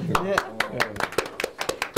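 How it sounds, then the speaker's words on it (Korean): Scattered, sparse hand claps from a small audience at a Korean investment talk, distinct individual claps in an uneven rhythm while a voice speaks over them. "다시 한번 박수"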